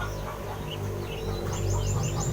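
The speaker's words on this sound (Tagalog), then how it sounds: "Ayan yung mga ibon natin." Birds calling in the early morning around 6 AM: a few short chirps and warbling calls rise over a steady low rumble, with the clearer bursts coming toward the end.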